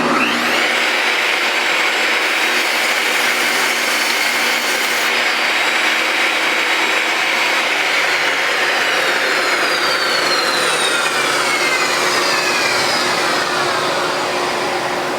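Power saw whines continuously while trimming the edge of a board, loud and close, the pitch dropping partway through as the blade bites into the wood.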